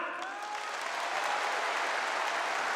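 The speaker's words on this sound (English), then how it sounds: "make some noise with your clap" An audience at a log lift strongman event claps hands in a dense, steady wash of applause that holds even and loud across the clip, with no voices over it.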